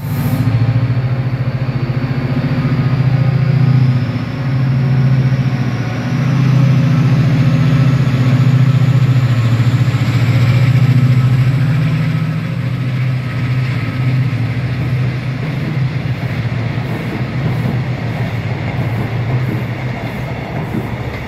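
A Class 68 diesel locomotive runs with a loud, deep engine throb that swells and eases. Rail noise and faint rhythmic clatter join in toward the end as it passes close by.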